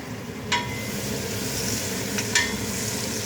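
Onions and garlic sizzle steadily in butter in a hot pan, with a continuous hiss and a couple of brief clinks as they are stirred.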